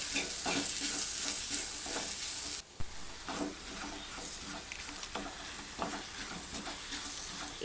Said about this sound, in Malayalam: പാവയ്ക്കയുടെയൊക്കെ പച്ച ചൊവ ഒന്ന് മാറണ വരെ ഒന്ന് എണ്ണയിലിട്ട് വാട്ടിയെടുക്കുക